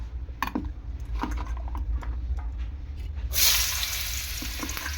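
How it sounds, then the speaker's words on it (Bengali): Potatoes frying lightly in a pan, a low steady sizzle with occasional clinks of a utensil, then a sudden louder hiss that swells midway and continues, no voices. "আলুটা হালকা করে একটু ভেজে নেব।"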